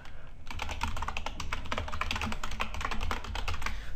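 Rapid, steady typing on a computer keyboard while credit card details are entered for an online shopping payment, dense clicking keystrokes close up and continuous, with no talk.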